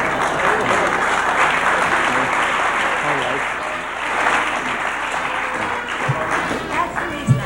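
Sustained audience applause from a crowd, dense and steady clapping filling the whole stretch with a slight dip midway and a few sharper claps near the end.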